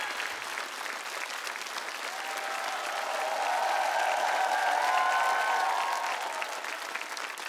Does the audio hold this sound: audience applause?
yes